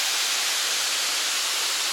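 A waterfall on the İzmir–Ayvalık road pours in a dense, steady roar of broadband rushing water, loud and continuous with no talk.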